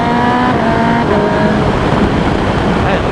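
A remapped, dyno-tuned Kawasaki ZX10R sport bike pulls hard in third gear, its engine a loud, close, sustained high-pitched roar with a slight rising pitch throughout.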